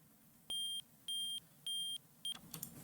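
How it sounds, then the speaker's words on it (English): Chiptune beeps from PSG sound channels: four evenly spaced high electronic tones, the last one clipped short, over a faint steady hum. "These like beeping sounds in the first two channels, so we're going to mix those together."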